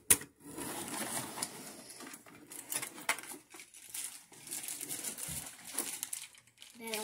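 Plastic toy packaging for a Batman Classic Batmobile being cut and opened at close range, with irregular crinkling, scraping and snipping sounds in short bursts, with a voice talking in the background.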